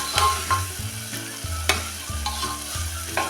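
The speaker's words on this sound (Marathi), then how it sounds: "आता टाकूया ही दोन चमचे कोथिंबीर हे पण आता असं मिनिटभर परतूया" Fresh coriander stir-fried in a pan for a Muslim-style green pea pulao, with a steady close sizzle and repeated scraping strokes of a spoon at an uneven rhythm.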